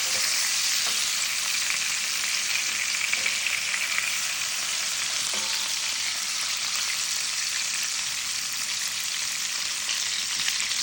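Chicken frying in a pan, Filipino style, giving a dense, continuous hiss of sizzling oil that stays loud and close from start to finish with no voices.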